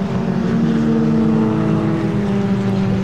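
Historic Formula Ford race cars at Snetterton circuit produce a steady, loud engine drone that holds a sustained pitch throughout, with cars passing side by side.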